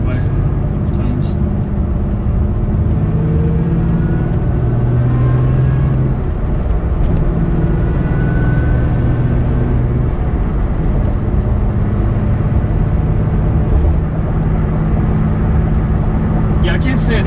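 A supercharged 2015 second-gen Toyota Tacoma with a six-speed cruises on a freeway, a steady loud engine and road drone heard from inside the cab, continuous throughout.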